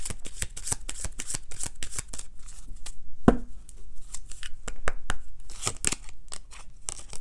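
A deck of Lenormand cards is shuffled for a reading, a close run of quick, crisp riffling clicks and flicks in an uneven rhythm, with one sharper snap partway through.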